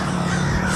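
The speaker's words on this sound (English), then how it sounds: "I hear crows, maybe Sting's nearby" Crows caw outdoors, a brief dense burst of harsh calls heard loud and close with no talk over it.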